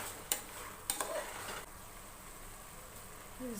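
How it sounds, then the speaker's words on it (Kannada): A few sharp scrapes of a spoon against a pan, then a soft, steady sizzle as fenugreek leaves and vegetables are stirred in tempering, fairly quiet and close. "ಒಗ್ಗರಣೆಯಲ್ಲೇ ಮಿಕ್ಸ್ ಮಾಡ್ಕೋತಾ ಇದ್ದೀನಿ"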